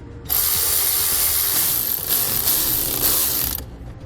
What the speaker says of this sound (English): Now we're going to begin to tighten that down evenly. For the nut, you'll need a 3/8 wrench.